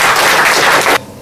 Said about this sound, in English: I want to have a round of applause for Chicago Animal Care and Control